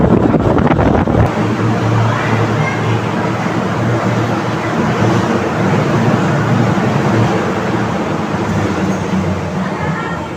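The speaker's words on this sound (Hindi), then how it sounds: "तो बड़ी तेज़ हवा आ रही थी इसमें से।" Strong, steady rush of air blowing from a science centre exhibit machine fills the scene, a loud continuous roar with a low rumble, starting abruptly after a brief moment.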